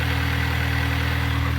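A MINI Cooper S with a B46/B48 turbo engine idles steadily after an oil change, a constant, even hum heard close up with no talking.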